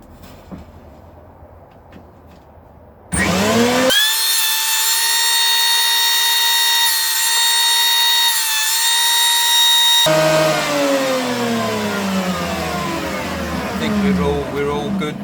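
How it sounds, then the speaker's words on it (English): Electric planer flattening a wooden blank for a 1958-style Flying V guitar: a loud, steady high-pitched whine with cutting roar starts after a quiet moment, holds for several seconds, then winds down. "I'm going to plane that flat on my planer over here"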